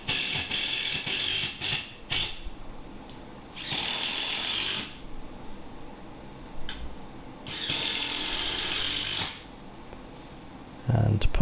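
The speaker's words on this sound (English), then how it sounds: "belt in the screws with the impact driver, making sure it's on the line" An impact driver drives screws through timber into a kitchen wall, sounding in several loud, sustained bursts of whirring and hammering separated by short pauses, with quieter handling noises between.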